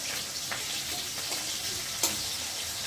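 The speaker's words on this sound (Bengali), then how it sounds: "এখন কড়াতে আমি এই যে লঙ্কা আর পেঁয়াজ দিয়ে দেবো।" Chilli and onion frying in a hot wok, a steady broad sizzle throughout with a few light stirring clicks, close and fairly loud, no voices.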